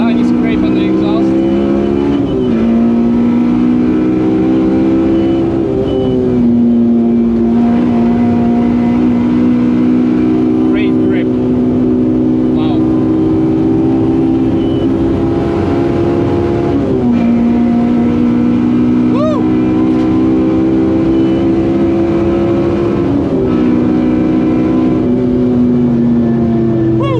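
A Honda Civic EJ1 with a K20 engine laps the Nürburgring, heard from the cabin as a loud, sustained engine drone rising steadily in pitch through the gears, with sharp drops at each shift and occasional talk over it.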